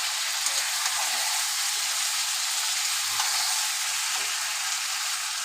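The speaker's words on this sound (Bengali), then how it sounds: "ভালো করে কষিয়ে নেব।" Loud, continuous sizzling hiss of mutton being stir-fried down in a pan, with a few faint stirring knocks underneath and no talking.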